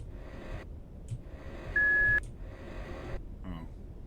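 A single steady electronic beep tone, about half a second long, in the horror video game Letters of Bernard Thorne, heard among quiet ambient sounds and brief gaps.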